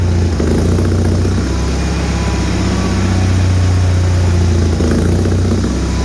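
A Bolens HT-23 tractor engine runs steadily after a cold start in -40 weather. The loud, continuous idle has a throbbing low rumble and slight wavering, with no speech heard.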